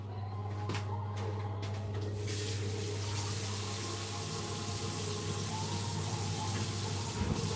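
Vegetables are rinsed under a running kitchen tap, a steady broadband rush of water filling most of the stretch after a few clicks and knocks at the start.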